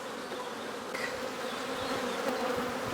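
Dense, steady buzzing of many honey bees swarming close by while an opened hive is inspected, a continuous loud drone with no talking.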